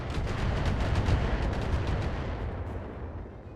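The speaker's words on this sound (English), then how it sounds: "Firing LRMs." A volley of LRM missiles launched by mechs in a BattleTech game, a dense rumbling barrage of overlapping launches and impacts that gradually fades out.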